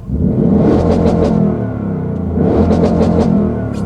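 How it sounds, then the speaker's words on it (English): A 2024 Ford Mustang Dark Horse in track mode revs hard twice, each burst swelling into a deep roaring exhaust growl before dropping back, close and loud. "I wanna hit a couple little revs here for you"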